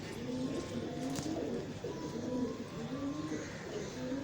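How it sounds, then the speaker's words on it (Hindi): Pigeons coo in repeated soft, low rolling phrases, a close and steady chorus over a quiet background hum, with no talk. "कबूतर है।"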